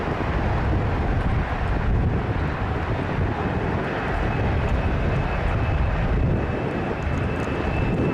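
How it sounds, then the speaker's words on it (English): A Boeing 747 takes off at an air show in Portugal, a steady loud roar of jet engines with buffeting wind noise, sustained and unbroken throughout with no voices. "This Boeing 747 destroying the terrain next to the runway while taking off."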